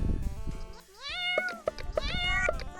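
A cat in the video game Friendsim 2 meows in a rising call followed by a quick run of four short meows, close and clear.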